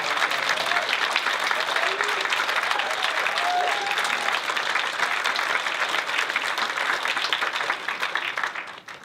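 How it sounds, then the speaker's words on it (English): An awards-ceremony audience applauds community groups and support providers in a sustained burst of dense clapping from a large room that fades out toward the end. "I would like us to take a moment to applaud all those groups and our many support providers in the room"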